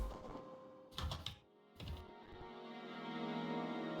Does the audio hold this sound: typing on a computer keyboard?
yes